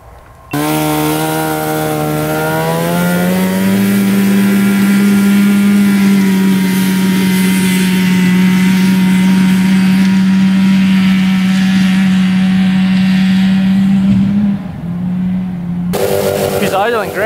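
An old two-stroke snowmobile engine, revived after some 30 years unused, drones steadily at a fast, even idle for about fifteen seconds, loud and close, then dips briefly before a voice cuts in.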